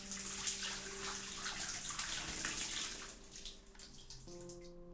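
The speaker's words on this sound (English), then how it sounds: "You just water the plants" Water poured from a bucket onto plants in a gardening simulator game, a steady splashing gush that tapers off toward the end, close and alone without talk.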